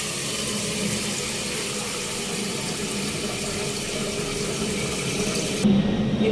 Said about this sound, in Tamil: இதுக்கு மேலே வந்து நான் வாட்டர் வந்து ஃபில் பண்ணி வச்சுக்கேன்